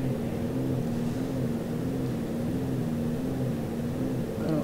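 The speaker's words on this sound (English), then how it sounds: "Didn't sound like my engine liked that very much." A Cirrus SR22 piston aircraft engine in the X-Plane 11 flight simulator, with power pulled back during descent, droning steadily with a slightly wavering hum, close and continuous with no talk.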